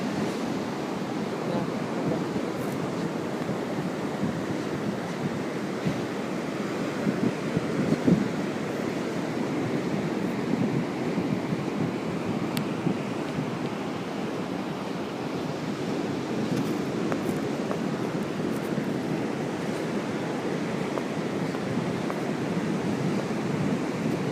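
Sea surf rolls in close by on a cold, freezing shore, a steady broadband wash of breaking waves mixed with wind buffeting the microphone, continuous and unbroken throughout with no talking.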